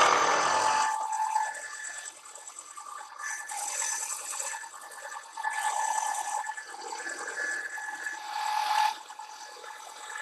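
A metal planer mill takes a long cut on a tapered shim, giving a steady mechanical whir and grinding hum with a rhythmic ratcheting texture that runs alone throughout.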